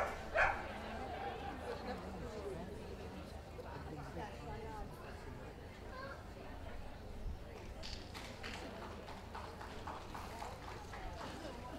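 At a Toy group dog show, a Havanese dog gives a sharp bark near the start, then continues among the steady murmur and bustle of a crowded indoor hall.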